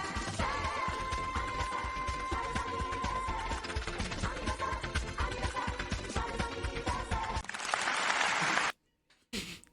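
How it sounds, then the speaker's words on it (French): A crowd claps at the close of a music track, dense rattling applause mixed with the last of the music, then cut off abruptly into near silence with one brief burst after. "à la fin de la musique, il y a des applaudissements"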